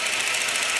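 A car engine misfiring with heavy vibration, a steady loud hissing mechanical roar with a rapid pulsing knock, continuous through a brief moment without talk.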